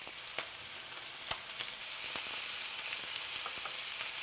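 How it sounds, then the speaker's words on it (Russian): Chicken sizzles and spits while frying in an aluminium pan for shawarma, a steady close-up hiss with a few sharp pops scattered throughout. "Поэтому его нужно жарить на алюминиевой сковороде."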